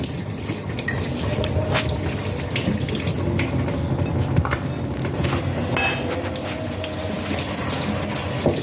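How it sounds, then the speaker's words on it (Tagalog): Shrimp are washed under a steadily running kitchen tap, the water hissing and splashing continuously into the sink with small clatters as the shrimp are handled. "So, ngayon, huhugasan natin yung ating hipon."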